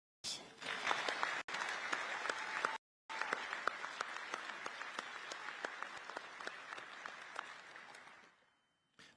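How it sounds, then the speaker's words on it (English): Sustained audience applause at a US Air Force Chief Master Sergeant assumption-of-responsibility ceremony: a large indoor crowd claps steadily and loudly for about eight seconds, with a couple of brief breaks, before it stops abruptly. "I would like to have everybody, first of all, applaud Danielle, as well as the Wolfe family"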